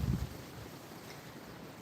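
Wind blowing at a lakeside cottage, picked up by a phone microphone as a faint, low rumbling buffet with a brief louder gust at the start.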